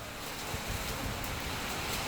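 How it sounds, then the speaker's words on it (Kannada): Heavy rain falls somewhere in Karnataka, caught on news footage as a steady, loud, wash-like roar that stays dense and unbroken throughout, with no voices. "ರಾಜ್ಯದ ಯಾವ ಯಾವ ಭಾಗಗಳಲ್ಲಿ ಮಳೆ ಬಿದ್ದಿದೆ ಅನ್ನೋದರ ದೃಶ್ಯವನ್ನ ನಿಮಗೆ ತೋರಿಸ್ತಾ ಇದ್ದೀವಿ"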